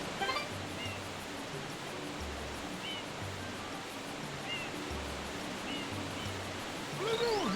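Steady wash of ocean water and a waterfall in the Super Mario Sunshine video game, a soft continuous rushing noise with faint game tones layered over it.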